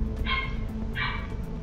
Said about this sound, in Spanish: Ladra y ladra y sufre. Es un ladrido de dolor.